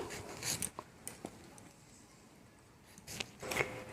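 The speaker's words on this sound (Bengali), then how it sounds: "অর্ধেক পেঁপেটা আমি এই একইভাবেই কেটে নিচ্ছি।" A knife cuts half a papaya into small cubes for a healthy mung dal and papaya dish, giving a few quiet, separate crisp cutting strokes against a soft background.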